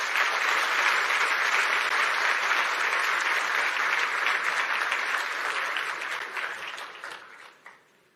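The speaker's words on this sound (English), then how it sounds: "A lot of applause for Waziri Moses Kuria." A large audience at the EU-Kenya Business Forum claps in sustained, dense applause that holds steady before thinning and fading out at the end.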